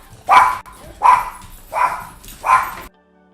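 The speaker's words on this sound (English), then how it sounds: "Let me get the dogs to hush real quick." Dogs bark at neighbors pulling into the driveway: four loud, evenly spaced barks close by, each trailing off, then quiet.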